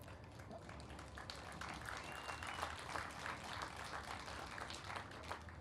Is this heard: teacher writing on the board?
no